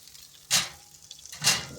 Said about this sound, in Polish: Kiełbaski jeszcze się skwierczą te, które zostały